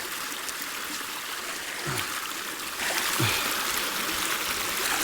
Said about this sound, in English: Wash it off with a bit of water, it'll be right.